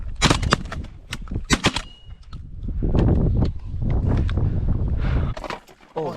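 Several sharp shotgun blasts ring out in quick succession during an outdoor pigeon hunt, loud and close, followed by rustling and movement, with voices talking in the background.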